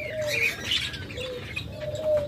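Pet pigeons or doves for sale in a bird shop call in a brief, continuous stretch of soft cooing with a few higher chirps, close by and with no voices.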